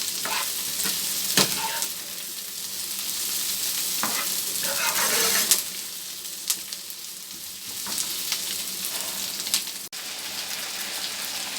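Chopped tomato and browned onion sizzle in a hot pan, a steady crackling fry with a few sharper pops and stirring clicks, close by and alone.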